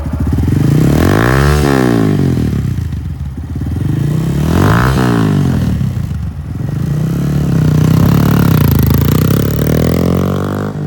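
A used 2018 Honda Grom 125 lightweight sport motorcycle engine runs loud and close, revving up in two strong swells with a steady idle between, no talk over it.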